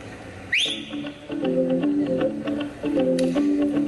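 A person whistles a short melodic tune, opening with a quick rising wolf-whistle-like swoop, then held and stepping notes close by, with faint background ambience.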